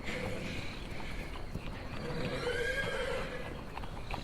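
Horses whinny over a busy bed of hooves clip-clopping at close range, with the neighing rising clearly near the middle amid a dense stage sound effect.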